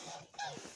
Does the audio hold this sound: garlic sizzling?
no